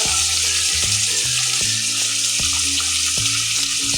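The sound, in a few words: vegetables frying and sizzling in a pan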